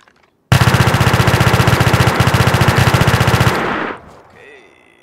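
Sustained automatic gunfire in the modded DayZ video game, one long, loud, close burst of rapid evenly spaced shots lasting about three seconds, then cutting off into a fading echo and a faint mechanical tail.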